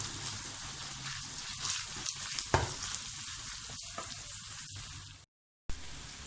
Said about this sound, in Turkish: Şimdi güzelce bir kavuracağım ilk önce bunu.